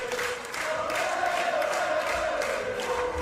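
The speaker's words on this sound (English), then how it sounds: "Listen to this noise in Wolverhampton for Generico" Indoor wrestling crowd in Wolverhampton at an IndyPendence Day 2008 show roars and cheers in a sustained, loud wall of voices with a rising chant-like tone, with no break.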